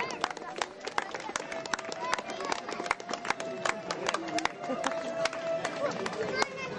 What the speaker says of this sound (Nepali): साथीहरु ताली दिनु होला